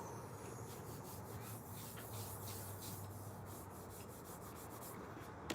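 Hand sanding on wood in a woodworking shop, a steady close rasping rub that runs on without a break at low level, with no voice over it.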